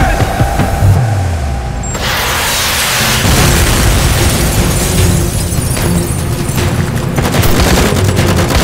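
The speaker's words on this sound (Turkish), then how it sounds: "Roket!" A rocket explosion in a TV series erupts in a loud, sustained boom with roaring blast noise and crackling debris that rumbles on for several seconds.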